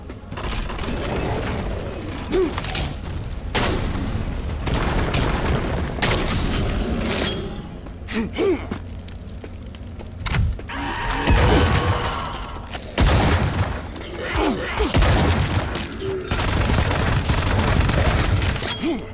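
Repeated booming explosions from a rocket launcher in the shooter Wrath: Aeon of Ruin, loud blasts at irregular intervals mixed with mechanical clanks and combat noise.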